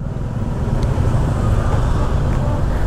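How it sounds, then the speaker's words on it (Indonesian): Steady, dense road traffic crawling through a jam in Canggu, Bali, a continuous low rumble of engines that holds at a constant level throughout without breaks. "Aduh, macet-macet."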